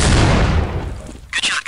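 Gunshot in Counter-Strike: Condition Zero, a loud close blast with a booming, fading tail, followed by a brief sharp metallic clatter near the end.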